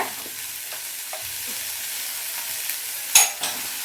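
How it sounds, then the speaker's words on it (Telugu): Okra and tomato fry in a pan with a soft steady sizzle while a utensil stirs them, giving a few light scrapes and a sharper clack near the end. "బెండకాయ టమాటా బాగా వేగాయి"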